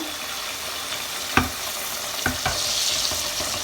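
Köfte meatballs frying in oil make a steady broadband sizzle, with a few sharp clicks and pops rising above the hiss.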